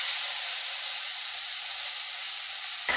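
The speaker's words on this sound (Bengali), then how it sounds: "এই তেলের মধ্যেই আমি এই আমের টুকরো আর টমেটোর টুকরো গুলোকে হালকা করে ভেজে নেব" Mango and tomato pieces fry in hot oil left from frying potatoes, producing a loud, continuous close-up hiss that holds steady throughout.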